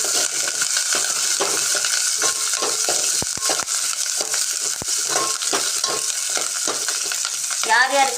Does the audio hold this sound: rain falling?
no